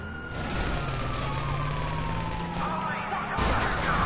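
A police or fire siren wails in the video game GTA 5, a loud continuous rising and falling tone that carries right through, with a voice briefly heard over it.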